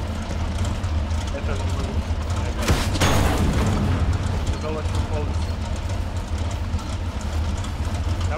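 A grenade launcher fired at point-blank range in the WWII shooter Hell Let Loose sets off a loud, close boom about three seconds in, over dense battlefield rumble, while someone talks throughout.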